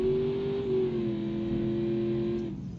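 Car engine in BeamNG.drive revving hard under full throttle with a 250 shot of nitrous, a loud sustained droning roar with a steady pitch that holds for over two seconds, then drops away near the end.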